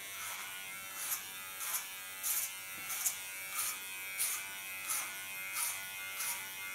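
An electric hair clipper buzzes steadily while cutting short hair, with regular soft bursts about every half second as it passes through, fairly quiet and close, with no talking.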